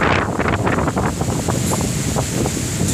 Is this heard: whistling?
no